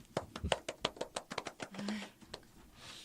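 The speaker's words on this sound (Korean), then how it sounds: "혼자 박수" A lone person claps for themselves at the start of a Korean shop-promotion broadcast: about a dozen sharp, close claps in a quick, steady run, then a brief low hum and quiet room tone.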